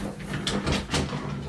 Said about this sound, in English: now we can put the drawer